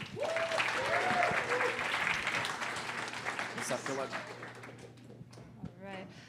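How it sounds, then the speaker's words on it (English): An audience applauds a presenter at a talk, a dense wash of clapping that is loud at first and then thins out over several seconds while voices speak over it. "Please give a warm round of applause to Kelly Wagman"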